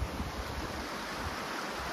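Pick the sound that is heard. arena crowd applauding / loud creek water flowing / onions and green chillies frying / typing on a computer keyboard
loud creek water flowing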